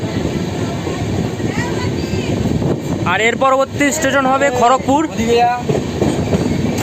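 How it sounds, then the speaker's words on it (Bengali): Dhauli Express train pulling into Santragachi Junction on the Shalimar to Puri run, a steady low rolling rumble heard close from inside the carriage, running under someone talking throughout. "আমাদের ট্রেন ঢুকছে এখন সাঁতরাগাছি জংশনে"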